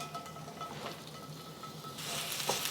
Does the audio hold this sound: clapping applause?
no